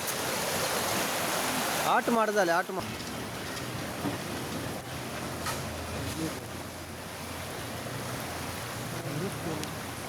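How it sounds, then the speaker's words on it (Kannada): A steady, dense roar of torrential rain in Udupi persists throughout, with a brief louder burst and a voice speaking briefly early on. "ಉಡುಪಿಯಲ್ಲಿ ಆಗ್ತಾ ಇರುವ ಧಾರಾಕಾರ ಮಳೆಯ ಎಫೆಕ್ಟ್ ಹೇಗಿದೆ"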